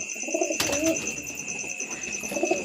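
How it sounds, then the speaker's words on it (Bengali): Pigeons coo softly a few times, low throaty calls spaced apart, over a steady high-pitched hum in the background. "কিন্তু এখানে পায়রা বসেও আছে"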